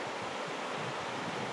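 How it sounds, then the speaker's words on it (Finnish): A strong river current in North Karelia rushes in a dense, broadband roar, steady and close throughout with no voices. "Siinä on se joki. Onpa voimakas virtaus"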